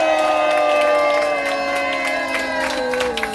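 A large crowd at a street rally outside a police station roars and cheers, loud and sustained, with a rising chant of voices and some clapping mixed into the din.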